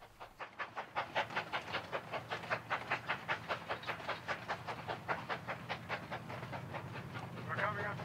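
A Cumbres & Toltec narrow-gauge steam train rolls past, its chuffing exhaust beating in a steady, regular rhythm that stays loud and close, with someone talking over it.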